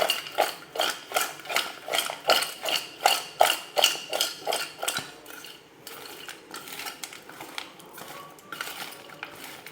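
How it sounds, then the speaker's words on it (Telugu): Bitter gourd pieces being stirred with salt and turmeric, a spoon scraping and clinking against a metal bowl in a steady rhythmic series of strokes, close and alone, growing softer and more irregular later. "అదేవిధంగా ఒక హాఫ్ స్పూన్ పసుపుని వేసుకొని ఇలా కింద నుంచి పైదాకా బాగా కలిసేలాగా రెండు మిక్స్ చేసుకొని"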